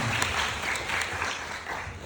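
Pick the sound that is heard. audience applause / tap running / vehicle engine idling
audience applause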